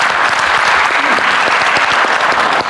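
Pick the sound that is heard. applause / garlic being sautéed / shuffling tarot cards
applause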